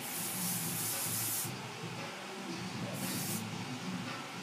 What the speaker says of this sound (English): Give it one spray down.